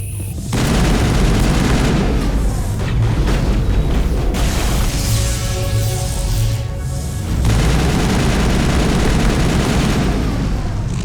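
Dense, loud gunfire from a Mass Effect firefight, with rapid automatic bursts and booming shots layered continuously over roughly eleven seconds, easing briefly in the middle before surging again.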